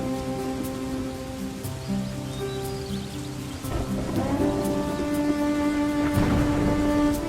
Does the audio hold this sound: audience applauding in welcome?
no